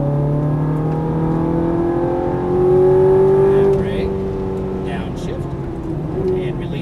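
A sports car, a Ferrari F430 or Nissan GT-R, accelerates on a track, its engine note climbing steadily through the revs and then easing off, loud and close, with an instructor's voice coaching over it.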